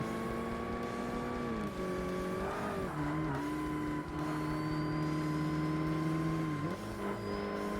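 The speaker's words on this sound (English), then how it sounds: "It sounds like it's got way more in the tank when you rev it." Race car engine in Forza Motorsport revving loud and steady, its pitch climbing and dropping with gear changes and throttle lifts, with faint tire squeal over a continuous near drone.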